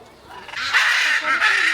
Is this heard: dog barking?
no